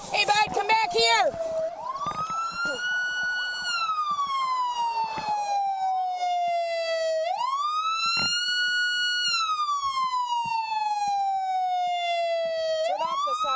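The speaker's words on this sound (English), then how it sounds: "Turn off the siren." A police car siren wails in long rising and falling sweeps, loud and close, cycling steadily with a brief burst of yelps at the start, heard during a street stop at an intersection.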